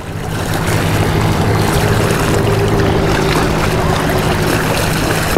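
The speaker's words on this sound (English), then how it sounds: "I don't know how well you're gonna be able to hear the waves splashing" Salt-water waves at Panama City Beach wash and splash continuously in a loud, broad rush mixed with wind buffeting the microphone, with no voices.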